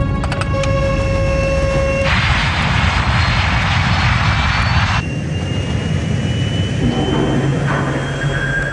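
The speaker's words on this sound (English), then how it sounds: "To save the plane, Captain Caviedes applies full throttle, burning up more of the plane's precious fuel" An airliner's jet engines roar at full throttle in a dramatized reenactment. A steady, loud roar carries high whining turbine tones that shift partway through, and no one speaks over it.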